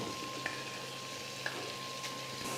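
Grated cauliflower frying with masala in a kadai gives a soft, even low sizzle, with two faint clinks of a spoon against the pan and no voices.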